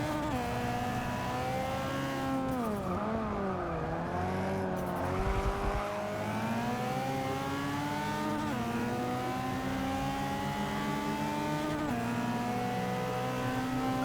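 A race car tuned for acceleration revs hard in Forza 6, its engine note climbing and dropping through gear changes in a continuous loud whine, with no talk over it.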